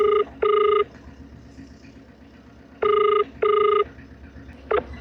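Outgoing call on a mobile phone ringing unanswered: four clear, loud ringback tone bursts in two pairs, then a brief beep at the end, over a low hum with no talking.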